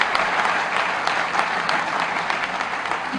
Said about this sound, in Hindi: एक बार जोरदार तालियां आप सब लोग